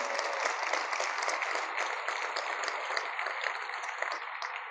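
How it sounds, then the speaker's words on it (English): An audience at a community celebration marking 100 years of impact applauds itself, giving a dense, even wash of many hands clapping. It stays steady and moderately loud for several seconds with no speech over it. "Feel free to clap for yourselves"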